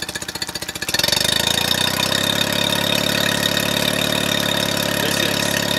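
A Mercury 9.9 four-stroke outboard engine starts and settles into a steady, close idle in neutral, a rapid even mechanical putter with a whining overtone, alone with no talk.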